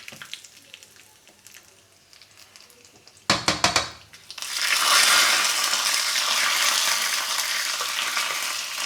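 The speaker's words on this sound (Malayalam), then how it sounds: "കടു പൊട്ടി ഇനി നമുക്ക് കറിവേപ്പില ഇട്ട് കൊടുക്കാം" After a few sharp clatters, a loud burst of sizzling erupts as curry leaves hit hot oil with popped mustard seeds and dried red chillies, crackling steadily and close by.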